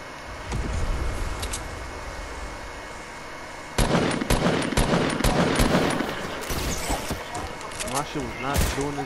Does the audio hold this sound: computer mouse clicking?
no